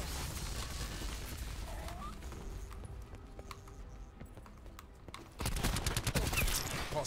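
Assault rifle gunfire in the video game Black Ops 4, rapid rattling bursts mixed with game sounds, fading briefly and then returning louder and denser near the end, with no talking.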